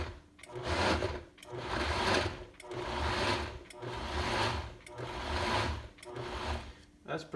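A Vitamix S50 blender pulses frozen chunks for protein pancake batter in short repeated bursts, about five loud grinding pulses with brief gaps between them, heard up close.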